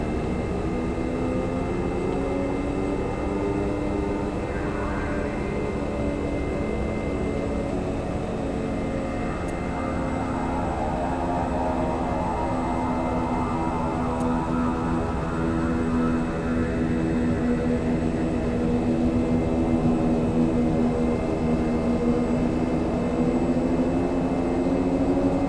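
Simulated aircraft engines in X-Plane 11 drone steadily as their RPM is lowered, a dense, continuous engine hum with layered harmonics that holds loud throughout, with no talk.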